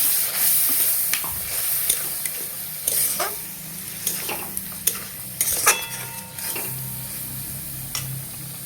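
Chicken masala cooking down in oil in a pan, a steady sizzle under repeated scraping and clinking of a metal spoon stirring against the pot, close and fairly busy.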